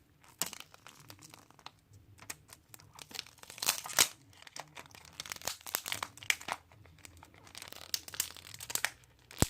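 Paper tab being peeled from LG V30 smartphone box packaging, a quiet close-up crinkling and tearing in irregular bursts with brief gaps.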